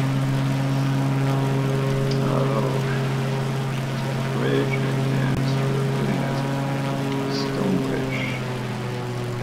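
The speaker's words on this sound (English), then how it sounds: "this is obviously a nice plane for very tight maneuvering" Steady droning propeller aircraft engine in Microsoft Flight Simulator 2020, a nimble plane flown from Toronto City Center toward Niagara Falls, a constant loud hum with strong tonal whine and faint incidental sounds throughout.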